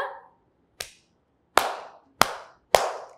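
Five sharp open-palm hand claps ring out close by, spaced unevenly with short gaps between them, each a crisp smack with a quick decay, and no talking in between.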